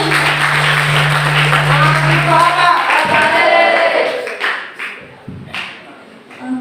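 An audience at a national seminar claps steadily for a few seconds with a low hum beneath, then the applause thins to scattered claps and fades.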